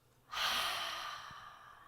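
A single long exhale through the mouth during a breathing exercise, a soft, airy breathy rush that starts abruptly and fades slowly, close to the microphone with no talking.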